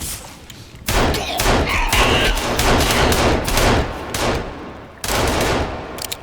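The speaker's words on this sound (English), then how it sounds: "Hunter's mag dumping him." Rapid automatic gunfire in the video game Sons Of The Forest, with a sustained magazine dump of loud, dense shots filling the whole clip and a brief gap before another burst.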